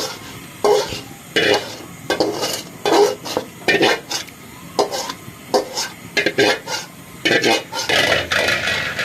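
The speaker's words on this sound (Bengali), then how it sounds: "মাংসটা দিয়ে দিচ্ছি" Meat is stirred into a pot for biryani with repeated scraping strokes of a spoon against the metal, irregular clanks and a faint sizzle beneath, close and fairly loud.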